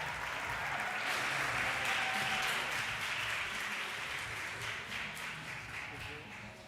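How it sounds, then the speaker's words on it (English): An audience at an arts and culture dialogue event applauds steadily in a hall, dense clapping sustained throughout and slowly tapering toward the end, close and full. "Please give a round of applause."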